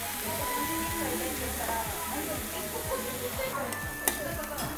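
Yakisoba noodles with yakisoba sauce sizzle steadily on a hot griddle, a constant close frying hiss with rhythmic scraping strokes of stirring, while a person talks over it.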